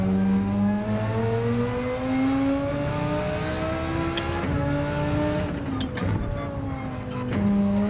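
A 2015 Audi race car at the Nürburgring, engine droning loud and steady as it climbs through the revs and shifts down, with sharp transient clicks in the middle.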